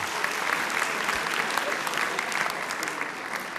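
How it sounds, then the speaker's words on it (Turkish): Steady, dense applause from a television talent-show audience on Yetenek Sizsiniz Türkiye, even and unbroken throughout with a faint murmur beneath. "Teşekkür ediyoruz, alkışlıyoruz."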